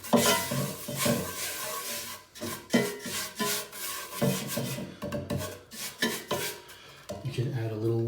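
Rough, rhythmic dry scraping strokes grate against a cast iron pan, scrubbing off stuck-on grease, close, in quick repeated bursts with brief pauses between them.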